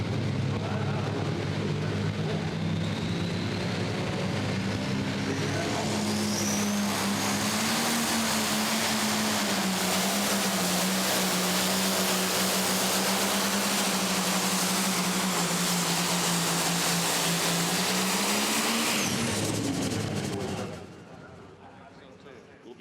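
A pulling tractor at an NTPA tractor pull in Tomah, Wisconsin roars at full power with a loud, sustained engine drone that holds pitch for about twenty seconds, then drops away as the run ends, with an announcer talking over it.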